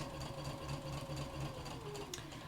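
A Brother A150 domestic sewing machine running steadily as it stitches a seam through fabric, a close, even motor whir with a fast mechanical needle rhythm.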